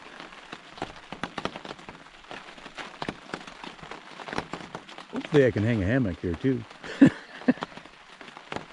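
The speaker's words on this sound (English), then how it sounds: "it started raining" Rain patters on a camping tarp outdoors, a steady fine tapping of drops throughout, while someone talks close by and some louder rustling and handling noises come through near the end.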